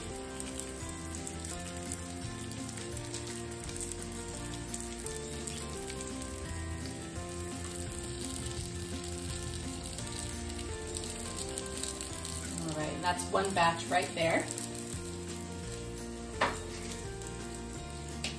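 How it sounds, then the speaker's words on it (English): Steady sizzling of turkey and vegetable gyoza frying in a hot pan, close and continuous, with a few clattery scrapes near the end and a brief remark spoken over it. "You can hear that sizzle."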